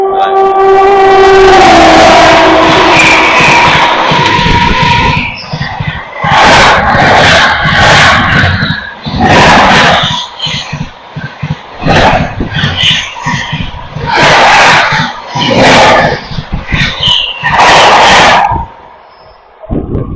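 Howrah–Barmer express overtaking at about 130 km/h on an Indian Railways route near Aligarh Junction, heard as a rising horn followed by a loud, fast rhythmic clatter of coaches rushing past close by.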